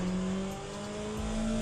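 Race car engine in the Le Mans Ultimate sim racing game, a steady sustained drone with strong harmonic tones that dip briefly and then rise again, with no talk over it.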